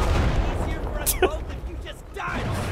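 Anti-aircraft guns fire in the video game Enlisted as a dense, continuous barrage of booming rumble, with one sharp louder crack partway through, mixed with game noise and a voice talking over it.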